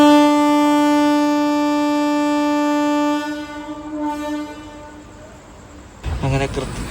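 The Vanchinad Express sounds a long, loud, steady horn blast while departing Ernakulam Junction. The horn fades into rumbling rail noise, and a clattering burst of wheels and carriages comes near the end.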